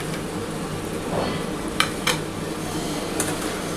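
Salt-and-turmeric fried eggs dropped into a simmering curry in a pan, a steady bubbling sizzle broken by a few sharp clinks of a utensil against the pan, close and without speech.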